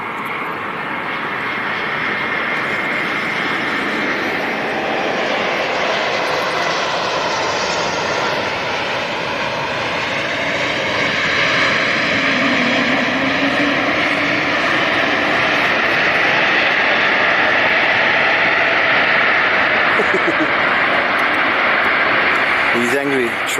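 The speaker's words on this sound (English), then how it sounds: "He's angry, showing his anger by thrust reverses." An Embraer E195-E2 jet landing at London City Airport with thrust reversers deployed, a loud sustained roaring rush that swells and stays strong throughout, with people talking over it.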